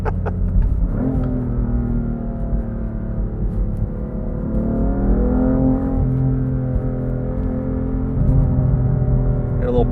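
BMW F80 M3 CS exhaust burbling and revving, a loud, steady engine drone with rising and falling pitch heard from inside the car as it drives, with someone talking over it.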